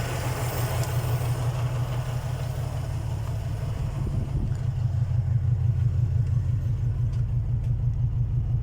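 Toyota 4A-F engine running steadily at idle, a loud continuous low rumble with an even pulsing throb throughout.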